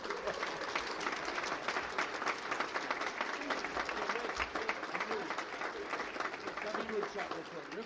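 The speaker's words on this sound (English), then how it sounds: "You may now applaud." Sustained applause from an audience at an evening awards ceremony for a Northwest Oklahoma City chamber's officers and directors, a dense continuous wash of many hands clapping at steady volume with a few voices mixed in.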